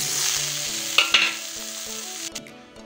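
Chopped tomatoes frying in spice masala for brinjal posto curry, a steady sizzle with a few sharp utensil clinks and scrapes over soft background music, no voices.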